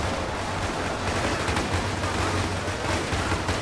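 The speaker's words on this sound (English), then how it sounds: "The cannons are over here." Fortress cannons in a Warhammer 40k Ork campaign battle at an Imperial stronghold keep up a dense, continuous barrage of booming fire and blasts, loud and unbroken throughout, with no speech over it.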